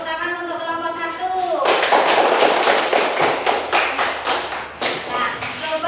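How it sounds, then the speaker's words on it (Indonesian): After a voice speaks briefly, a classroom bursts into applause for group 1, with many hands clapping in a loud, sustained round and a few sharp, distinct claps within it. "Tepuk tangan untuk kelompok 1"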